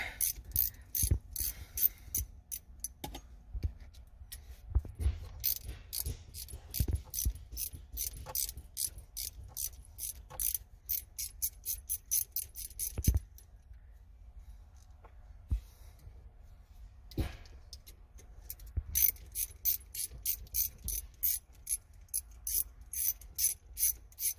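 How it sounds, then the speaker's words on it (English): A short 1/4 inch ratchet backing out 12mm fasteners from a Genesis Coupe factory shifter, bursts of rapid close clicking separated by brief pauses and handling noises. "So I'm going to take my short ratchet, my 1/4 inch with my bit, and I'm going to take these out."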